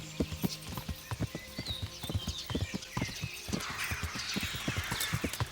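A horse in Kingdom Come: Deliverance gallops in rapid, rhythmic hoofbeats, loud and close, with a brief neigh mixed in.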